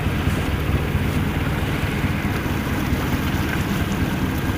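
A sailboat motoring under engine near the Glénan archipelago gives a steady low drone mixed with wind and water noise, continuous and fairly loud throughout, with no voices.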